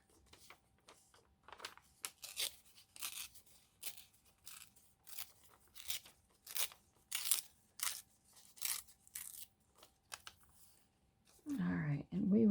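A paper ingredients list is torn by hand for a collage: a string of crisp, rhythmic ripping strokes, close and clear, ending with a burst of louder handling noise.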